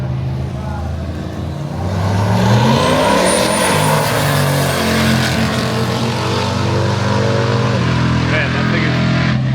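Two cars race in a drag-style final, an old-school Batmobile-looking car against a Holden HQ, their engines a loud sustained roar that rises in pitch through the middle as they accelerate, with someone talking over the noise.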